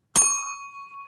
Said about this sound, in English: which is my little bell to warn you you have a minute to go